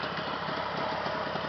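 A Jawa 638 motorcycle engine idles steadily nearby, a continuous close mechanical drone with an even pulsing beat and no voices.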